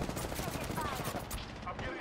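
Dense, steady gunfire in the battle royale video game Apex Legends, a rapid continuous stream of shots with game sounds blended in throughout.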